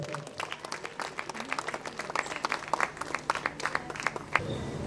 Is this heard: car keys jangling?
no